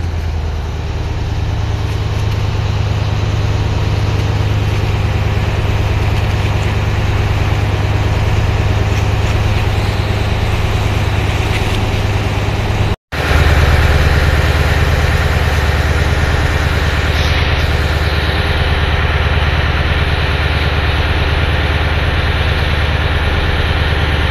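Boat engine running as the craft approaches a point, a steady loud low drone with a brief cut midway before it resumes, heard alone without talk.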